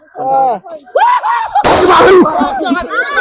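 Firecracker bomb bursting at a village Magha Purnima festival: one loud, broad crack-like burst in the middle, with people talking before and after it.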